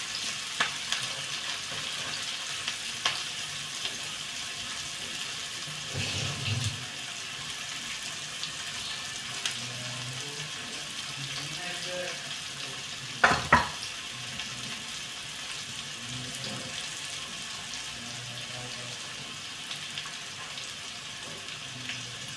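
Chopped onion fries in a pan with a little salt added, giving a constant soft sizzle. Faint clinks and stirring scrapes come through, with a sharper knock near the middle.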